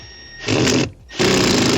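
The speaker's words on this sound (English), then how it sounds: "I'm going to screw it in" Power driver screwing a light fixture bracket into an electrical box, two loud close bursts of whirring motor with a brief pause between them.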